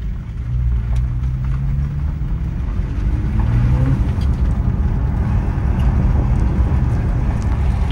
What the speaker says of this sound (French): On a un retour à l'échappement.